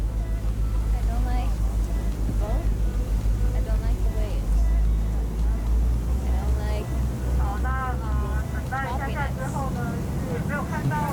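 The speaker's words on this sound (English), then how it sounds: "So we're on the boat now." A boat's engine drones low and steady while riding aboard, a constant deep rumble beneath people talking throughout.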